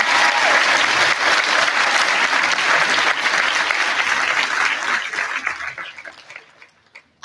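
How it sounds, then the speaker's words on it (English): A commencement audience at the 2018 Cheshire Academy ceremony gives a long, dense round of applause, loud and steady at first, then thinning out and fading to a few scattered claps at the end. "Can we give them a round of applause?"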